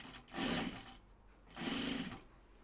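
A sewing machine stitches pajama bottoms in two separate bursts of about half a second each, close and moderately loud, with quiet pauses between the runs.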